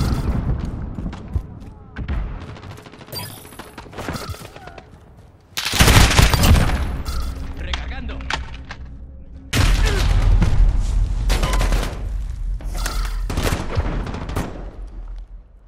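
Gunfire from the video game Call of Duty Modern Warfare crackles in scattered bursts, then two loud sustained volleys of automatic fire with heavy booms. Some voices are mixed in with the shooting.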